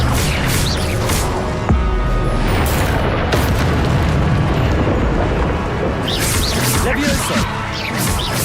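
An Incendio fire spell is cast in Hogwarts Legacy, a loud, roaring burst of flame with booming, crackling impacts that rumble on steadily, briefly intensifying toward the end.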